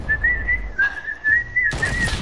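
A person whistling one steady, slightly wavering note held for about two seconds, loud and close over a rumbling background.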